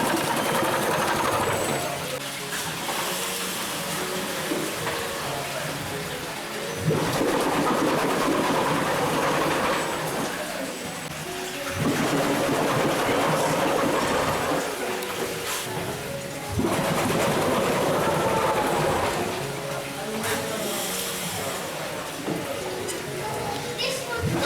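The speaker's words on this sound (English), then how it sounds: "This is the mill's largest steam engine," The largest steam engine at Quarry Bank Mill in Cheshire, England, still running, gives off a steady mechanical clatter that swells and eases in repeating cycles every few seconds, with no voices over it.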